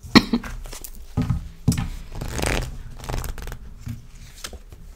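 Oracle cards are shuffled for a card reading, a series of soft riffling and flicking bursts close to the mic, with quiet pauses between them.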